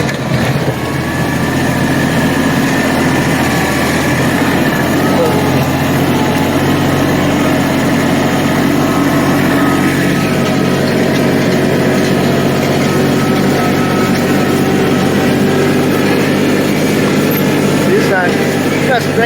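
A small tractor engine runs steadily and loudly throughout while skidding firewood, holding a constant drone with a slight strain and no letup.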